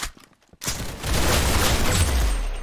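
Gunfire in the Roblox game Arsenal: a brief lull, then a sudden booming volley of dense, overlapping shots that keeps going steadily to the end, loud and close, with no voices over it.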